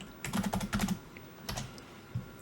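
Computer keyboard typing in a short burst of quick, light key clicks, a pause, then a few more taps, close and fairly quiet with no talking.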